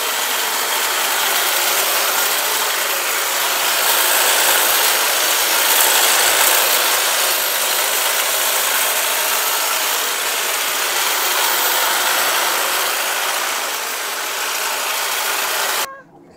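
Hedge trimmer engine buzzing steadily at close range with a dense, constant mechanical drone, holding level for about fifteen seconds before cutting off abruptly near the end.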